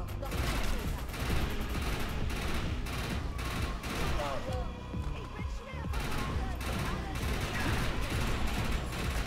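Gunfire and grenade explosions from a combat sequence in the video game Defiance, sustained rapid shots and booming blasts filling the whole stretch at high level, with a voice speaking briefly over the battle.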